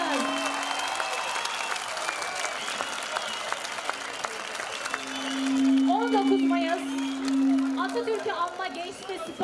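An audience at a 19 May youth and sports day celebration in Çorlu applauds high school students, a steady clatter of clapping under someone speaking over a public address system.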